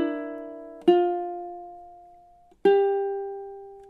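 Ukulele picking measure 11 of a film theme, three clear plucked notes or chords spaced apart, each ringing and decaying slowly, played alone and close.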